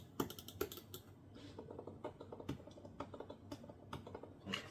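The buttons of a Trust GXT 929W Helox wireless gaming mouse are pressed close up, giving crisp, sharp clicks in quick irregular bursts over a quiet background.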